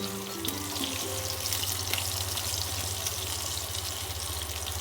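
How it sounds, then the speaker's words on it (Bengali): Potato pieces frying in hot oil in a pan, a steady, even sizzle and crackle heard up close for several seconds with no one talking. "আলুগুলোকে এবার একটু লাল করে ভেজে নেব।"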